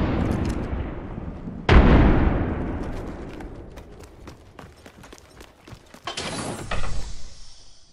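A frag grenade bursts in the Apex Legends battle royale game with one sudden loud blast, then a decaying rumble, scattered metallic clicks and light gameplay noise, and a second hissing swell near the end.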